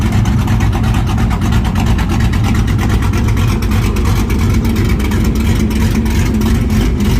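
Exhaust of a cammed 2005-2009 Ford Mustang, a loud, continuous deep rumble with a choppy, loping idle pulse, steady and close throughout with no talking.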